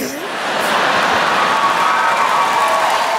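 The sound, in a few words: audience applause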